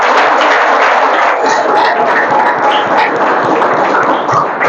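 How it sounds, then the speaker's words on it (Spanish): Church congregation at a Spanish-language service applauding, a loud, continuous wash of clapping and crowd noise that fills the whole moment without a break. "Démosle un aplauso al Señor."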